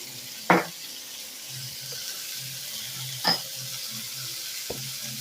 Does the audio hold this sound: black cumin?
yes